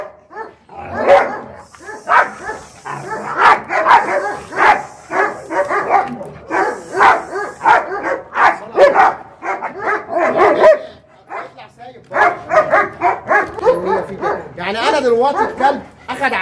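A dog barks repeatedly in close, loud bursts, mixed with yips and whimpers, while someone talks at length over and between the barks.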